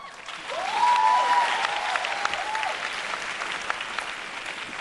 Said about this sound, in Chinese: 有掌声啊，也算是一种音效了。